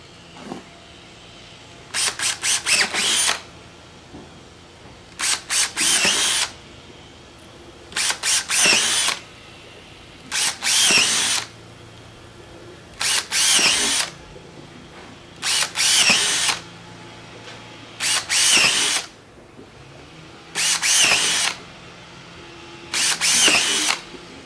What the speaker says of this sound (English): Once you've marked the holes, using the 21/64 drill bit,